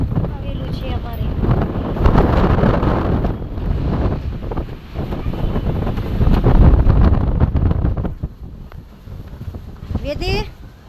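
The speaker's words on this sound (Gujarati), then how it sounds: "જોઈ શકો છો અમારે કેવું વાવાઝોડું આવેલું છે." A violent storm wind rushes and buffets the microphone in surging gusts, loud throughout, while people talk over it.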